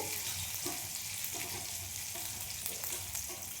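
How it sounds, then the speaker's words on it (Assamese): Onions sizzle and fry in a pan for fish curry, a steady close crackling hiss with occasional stirring scrapes. "পিঁয়াজখিনি বাদাম ৰঙৰ নিচিনা হৈছে।"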